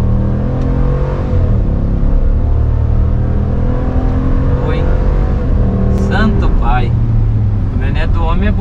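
A Ram 1500 pickup truck with a V8 Hemi petrol engine drives along a test track, its low, steady engine hum running beneath people talking nearly the whole time.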